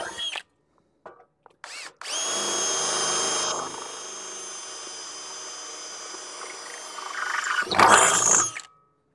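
A power drill works on a pellet mill, with a few short trigger bursts followed by a long steady whine that drops in pitch midway, then a brief harsher burst before it stops.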